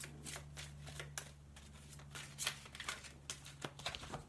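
Tarot cards shuffled in a run of crisp riffling bursts, close and alone over a low steady hum.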